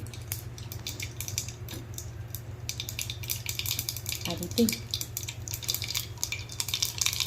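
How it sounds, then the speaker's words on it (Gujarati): Mustard seeds splutter in hot oil over a low gas flame for a garlic chutney tempering, with scattered quick pops and crackles over a low steady hum, close and fairly quiet. "રાઈ તતળે છે આપણે"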